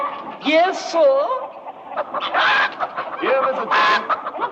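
A man imitates a chicken, clucking in loud nasal bursts and warbling squawks in a rapid uneven rhythm, close up and with no other sound.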